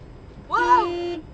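A weak, dying car horn gives one short, wavering honk lasting under a second over quiet road noise. The pitch bends slightly at the start before it holds and cuts off.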